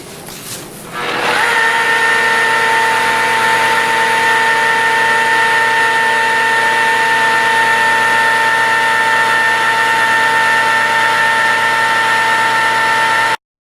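Rotary polisher fitted with a green foam applicator pad, running at low RPM while resin polishing a quartz surface: a steady, loud whine with sustained tonal hum that starts abruptly after a second and holds evenly to the end.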